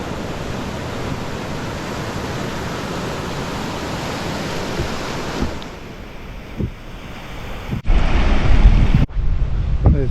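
Continuous roar of ocean surf breaking on a surf beach near Lennox Head, Australia, with heavy wind buffeting the microphone in loud bursts toward the end.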